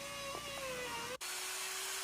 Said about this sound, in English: I'm sanding them down, getting them all smoothed up before I put a clear coat of lacquer on them.